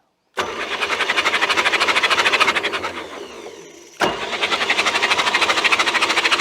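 A Mercruiser 120hp boat engine is cranked over by the starter in two bursts, a steady rhythmic chugging churn that pauses briefly then resumes, close and loud.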